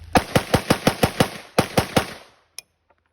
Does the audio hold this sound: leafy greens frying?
no